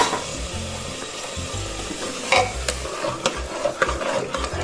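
Mushroom curry masala frying in oil in a pan, stirred with a spoon in repeated scraping strokes against the metal over a continuous sizzle, close and busy, no voices.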